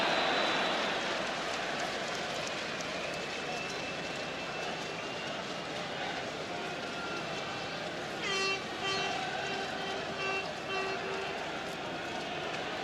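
Referee's whistle at a Ireland versus France 2010 World Cup qualifying football match, sounding in a few short shrill blasts late on over steady crowd roar and a commentator talking.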